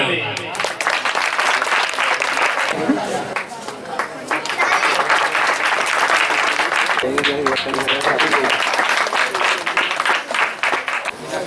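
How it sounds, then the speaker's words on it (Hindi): Loud, sustained applause from a large crowd at a Nawadha Ramayan devotional gathering in a Chhattisgarh village, continuous clapping filling the whole stretch with a brief dip midway before surging again. "जोरदार ताली।"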